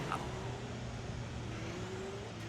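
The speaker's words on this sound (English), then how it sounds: "Let's give it a go, rev it up, and away we go" An Audi R18 engine in a sim racing game drones and revs steadily with a continuous whirring tone, loud and uninterrupted, with no voice over it.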